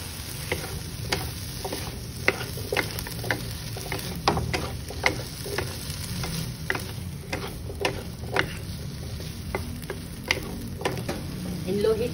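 Potatoes fry with oyster sauce in a pan over low heat, a soft continuous sizzle broken by regular close clicks and scrapes of a utensil stirring.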